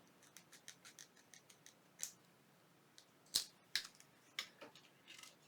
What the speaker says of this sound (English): I'm going to take my scissors and I'm just going to trim it